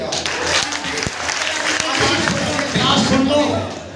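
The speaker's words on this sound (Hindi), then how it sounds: "तालियां तो अब बजाइएगा।" Audience applause at a Hindi Diwas comic poetry gathering in a school intercollege hall, a broad wash of clapping mixed with crowd murmur and some talking, steady and fairly loud before easing off at the end.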